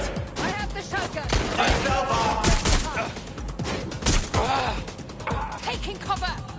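Shotgun blasts and chaotic gunfire ring out in the video game Watch Dogs Legion, with sharp repeated bangs, crashes and mechanical clatter mixed with shouted game dialogue.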